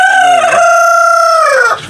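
A Merawang chicken, a native Indonesian breed, crows loudly and close by in one long drawn-out call, with a few short clucks at the start.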